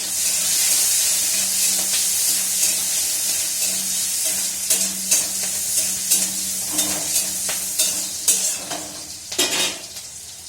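Onion frying in a pan, a steady broad sizzle with stirring scrapes and light utensil clinks that grow more frequent toward the end, close and alone without talk.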